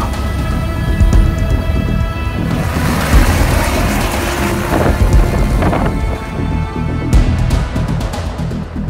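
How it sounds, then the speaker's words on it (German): Strong rushing wind from a helicopter hovering overhead to simulate a tornado beside the Adler Express road train, a steady roaring wash with gusty surges and rattling bursts, loud and close throughout with no talking. "Mit einem Hubschrauber wird ein Tornado aus der Luft erzeugt"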